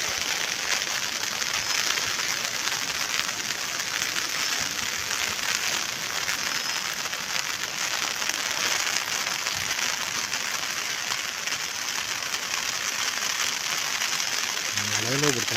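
Rain falls steadily around Bekal Fort in Kasaragodu, a dense, even hiss of drops on surfaces that stays constant and fairly near throughout, with a faint low hum at the very end.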